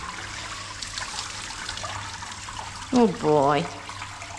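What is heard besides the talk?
water rinsing a dog during grooming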